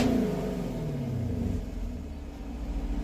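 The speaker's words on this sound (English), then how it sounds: "Put it in track mode. Gets a lot louder." A new muscle car's engine in track mode gives a loud, deep rev close by, then its pitch slides down and settles into a throbbing, rumbling idle.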